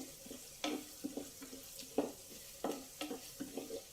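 Onions fry in a pan for an ivy gourd and chana dal curry, with a faint sizzle under a run of irregular stirring scrapes and light taps from a spoon, quiet and close.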